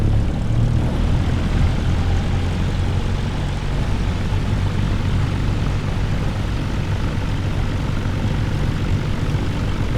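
A propeller airplane engine held at 1700 RPM for a run-up with the parking brake set, giving a loud, steady drone with a low throbbing hum that holds constant from start to finish.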